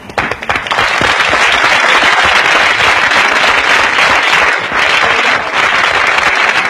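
An audience gives a loud, dense round of applause that swells quickly and holds steady as a continuous wash of many hands clapping close by.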